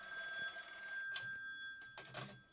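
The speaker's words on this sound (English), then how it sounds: "I'm getting phone calls." A telephone rings in a live radio studio, a steady electronic trill sounding for about a second, then short soft thumps and rustles as it is handled, with a faint background hum.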